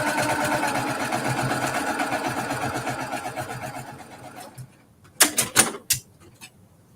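A sewing machine runs in fast, steady stitching for about four seconds while a wool quilt block is sewn, then stops, followed by a few sharp clicks and taps close by.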